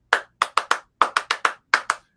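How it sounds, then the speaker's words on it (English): Hand clapping in a sharp, irregular burst of about ten claps, close and crisp, heard alone as a group celebrates wrapping an online Zoom session. "And we'll start clapping like"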